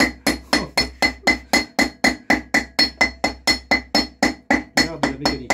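Steady metal-on-metal hammer blows during mechanical repair work on a camper van, about fifteen sharp, evenly spaced strikes, loud and close, with a slight clink, ending in a brief messier rattle.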